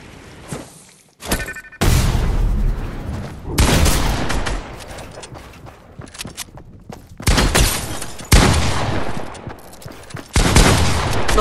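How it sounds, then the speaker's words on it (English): Rapid bursts of gunfire from a gun in the video game Fortnite, loud and close, firing in several sustained volleys separated by brief pauses. "Daniel can't even see me and he's still shooting."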